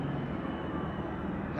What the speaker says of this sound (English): Helicopters overhead.